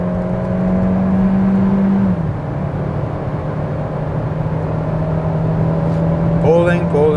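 A 2020 Kia Seltos engine, paired with a 7-speed dual-clutch transmission, drones steadily under load with a shift in tone about a third of the way through, while a voice talks over it.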